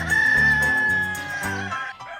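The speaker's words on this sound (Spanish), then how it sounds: "Su canto es la banda sonora del Valle del Curueño, una zona donde el gallo de León alcanza su máxima expresión" A León rooster in the Curueño Valley crows loudly and close by, one long strained call with a rough, harmonic-rich tone that breaks into a shorter second phrase before fading.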